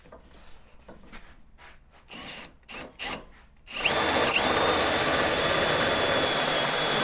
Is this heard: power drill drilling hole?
yes